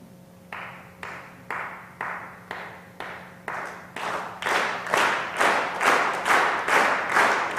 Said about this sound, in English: to start clapping, and then let's amplify the sound